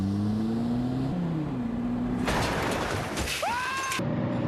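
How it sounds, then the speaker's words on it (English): A BMW E92 car on coilovers pulls out for a test lap, its engine droning steadily and then rising into a loud, broad roar as it accelerates, with a brief whine and tonal sweep near the end. "So we're about to go out, take it for a test lap, and see how she feels."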